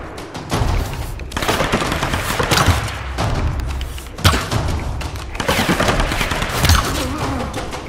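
Gunfire in a Tomb Raider video game, heard as loud, dense bursts of shots and thuds running continuously through a busy, noisy game mix.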